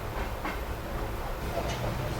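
A passenger train rolling toward Gorakhpur on a journey to Nepal, a continuous low rumble with faint rhythmic clatter heard from inside the carriage, steady and moderately quiet.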